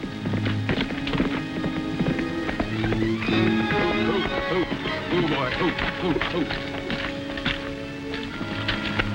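A horse's hooves clip-clop steadily at a run through a western scene, a rapid continuous clatter close by under a man's brief spoken exclamation and background music.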